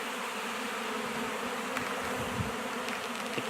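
A swarm of honey bees flies all around in a continuous dense buzzing hum that stays steady and close from start to finish.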